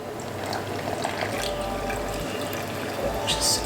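Plain water poured into a bowl of cornstarch, a continuous splashing trickle over light background noise.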